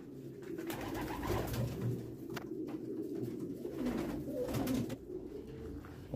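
Pigeons at a squab and pigeon farm in Damietta, repeated soft cooing from several birds nearby, with rustling and faint background noise between calls.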